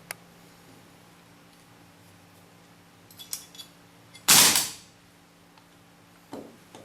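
A single sharp, loud shot from an RA Tech KWA AK gas blowback airsoft rifle stands out amid quiet ticks and clicks, followed by a softer mechanical clack.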